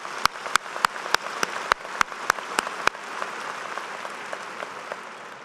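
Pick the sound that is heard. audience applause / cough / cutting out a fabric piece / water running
audience applause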